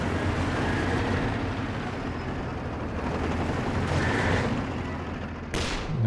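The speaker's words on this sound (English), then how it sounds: "Major artillery coming in from the side, forcing the MG away." Artillery barrage in Company of Heroes 2: a dense, continuous rumble of shelling with scattered impacts and a sharp burst near the end, loud and steady throughout.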